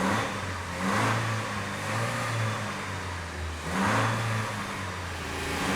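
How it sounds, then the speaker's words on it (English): Toyota Land Cruiser with the 1FZ engine revved twice in quick bursts, each rise in pitch easing back to a steady idle between, close and fairly loud with no talk. "We do have to give it a little rev test."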